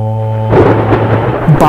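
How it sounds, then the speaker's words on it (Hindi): Thunder rumbles in the high-altitude Spiti valley of the Himalayas as a storm approaches near Kaza, a broad loud roll that rises suddenly after a steady droning tone and holds through to the end. "बाहर मौसम बहुत खराब होने लगा है और तूफान आने में जरा भी देर नहीं लगेगी"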